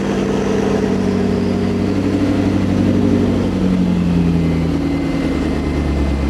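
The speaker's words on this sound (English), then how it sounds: "the engine sounds great, as usual. I'm just gonna let it run for a little bit." McLaren car engine running steadily at idle, loud and close with a continuous low drone and a slight shifting pitch, alone without talk.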